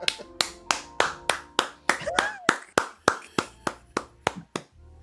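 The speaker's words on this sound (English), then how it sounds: "You aren't clapping for me, you're clapping for the Holy Spirit in the room right now." A church congregation claps in a steady, rhythmic beat, sharp and close, about three claps a second, with a voice briefly calling out over the clapping.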